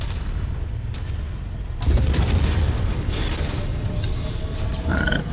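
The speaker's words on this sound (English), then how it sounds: "Looks like we gave him an ammo explosion to think about." A Long Tom artillery hit sets off an ammo explosion in MechWarrior 5. After a mechanical rumble, a sudden deep, loud boom rolls into a sustained roaring blast with creaking metal beneath, and no one speaks.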